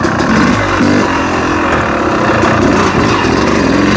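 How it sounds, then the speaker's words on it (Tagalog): A Yamaha YZ250 two-stroke dirt bike engine revs in second gear, a loud, buzzing, raspy drone held close and continuous with slight rises and dips in pitch. "I hope you can hear me kasi maingay ang mga ganitong motor."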